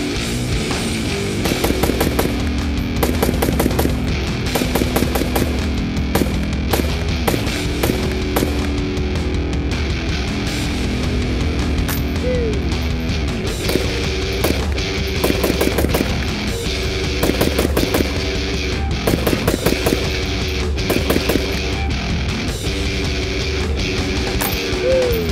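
Desert Tech MDR rifle fitted with a muzzle brake firing repeatedly outdoors, a long sequence of sharp, loud reports in irregular bursts and strings, some shots coming close together, with continuous background noise between them.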